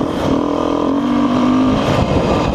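A dual sport motorcycle is being ridden, with a loud, steady engine drone close by. The pitch rises and falls slightly, and rushing wind noise is mixed in.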